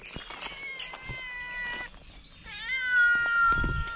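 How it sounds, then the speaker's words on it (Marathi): A cat meows twice in drawn-out, wavering cries, fairly close, with faint background noise and a few brief clicks around them. "ओरडते म्याव म्याव"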